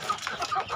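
Chickens on a poultry farm cluck in short, close bursts, several calls packed into under a second.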